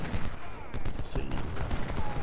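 Civil War battle gunfire in the video game Ultimate General: Civil War, a dense crackle of overlapping musket volleys and distant booms forming a continuous rumbling fusillade, with a voice talking faintly in the mix.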